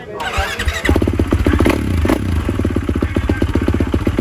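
Several motocross motorcycles roar off the line at a race start, engines revving hard and loud in rapid, pulsing bursts that crowd together and continue through the clip.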